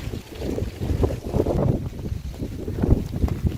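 Strong wind from Storm Ciarán buffets the microphone in a Dutch village, a loud, continuous rumbling roar with gusty surges and no voices.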